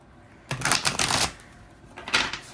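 Deep Love Oracle cards are shuffled and handled in two short bursts of rapid papery riffling, close and crisp, with a pause between them.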